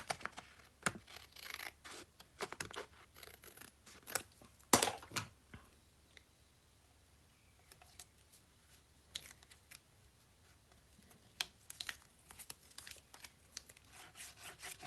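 Scissors cut paper for a Pretty Petals craft project, giving irregular soft snips, rustles and scratchy rubs close by, with short bursts separated by quiet pauses and no voices.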